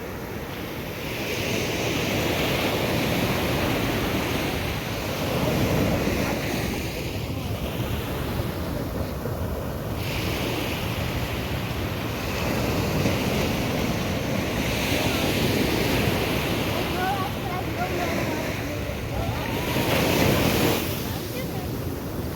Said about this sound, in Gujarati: તમે જોઈ શકો છો મોજાને